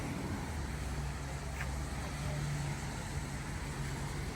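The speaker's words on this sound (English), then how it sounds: "let's do the cold crank" A Corvette with a muffler delete rumbles in a steady, loud low drone after a cold crank. The tone stays even throughout, with no distinct start-up burst.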